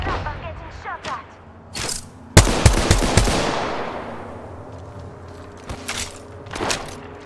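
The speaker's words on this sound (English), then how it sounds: "Listen up, I'm getting shot at." Gunfire rips through an Apex Legends match in loud, close bursts and rapid cracks, with a heavy volley near the middle that rings out and fades, followed by further scattered shots.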